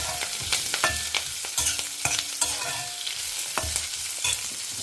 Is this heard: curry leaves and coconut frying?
yes